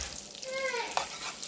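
Garlic frying in browned butter in a hot pan, a steady close sizzle with brief stirring scrapes and a couple of sharp clicks, a faint voice briefly heard underneath.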